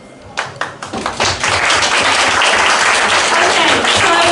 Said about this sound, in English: arguing for the motion, we have Helena, 2 minutes, uninterrupted. Round of applause.